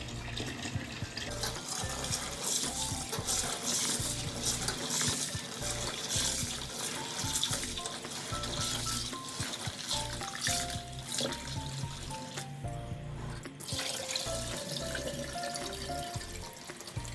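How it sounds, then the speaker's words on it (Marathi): Sorghum grain is swished and rinsed by hand in a container of water, with continuous sloshing and splashing at close range and no speech. "अशाच प्रकारे दोन तीन वेळा ज्वारी धुवून घ्यायची आहे"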